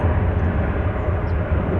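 An American Airlines Boeing 737-800 jet at DFW Airport produces a loud, steady engine roar with a deep rumble and broad hiss, close and continuous without a break.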